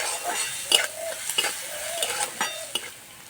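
Food frying dry in a pan with salt, no water added, with a soft sizzle under several distinct spatula scrapes and taps against the pan at an irregular pace; no talking.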